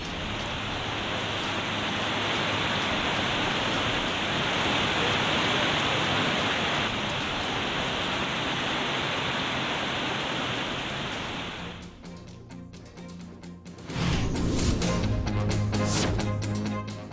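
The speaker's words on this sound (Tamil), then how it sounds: "ஸ்ரீவில்லிபுத்தூரில் நள்ளிரவில் வெளுத்து வாங்கிய கனமழை" Heavy midnight rain in Srivilliputhur, a dense, loud, steady roar of downpour that continues for most of the span, then breaks off into shifting, uneven noise toward the end.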